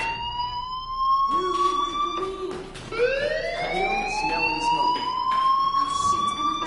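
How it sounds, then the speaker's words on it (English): A fire alarm sounds in the video game Life is Strange Remastered, a loud sustained electronic wail that sweeps up and down over several seconds, with game voices speaking beneath it. "Hey, do you hear that fire alarm? That means you should be outside."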